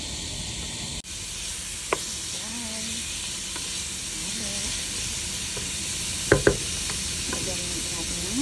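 Sausage and chicken breast sizzle in a pot of chicken sopas, a steady hiss of frying broken by a few sharp clinks and stirs near the end.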